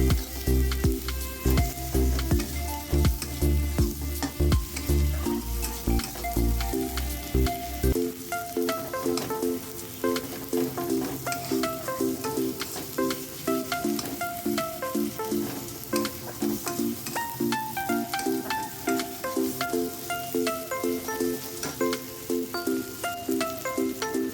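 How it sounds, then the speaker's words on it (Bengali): Onion and garlic fry steadily in a kadai, a loud continuous sizzle with stirring that lasts throughout, and there is no talking. "পেঁয়াজ রসুনটা ভালো করে কড়াইতে ভালো করে ভেজে নিয়েছি"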